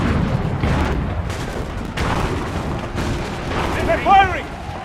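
Gunfire and cannon blasts in the Assassin's Creed III video game, dense rumbling booms and cracks layered throughout under overlapping shouted voices, with a brief louder burst near the end.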